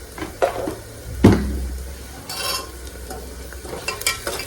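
Onions frying in a pan in a Marathi home kitchen, a low steady sizzle broken by a few sharp clatters of a spoon stirring against the pan, close and fairly loud with no talking.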